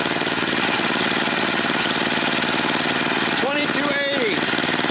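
A Craftsman 30-inch tracked snowblower engine idling after tuning, a loud, steady, rapid chugging drone that holds even throughout, with someone speaking briefly over it.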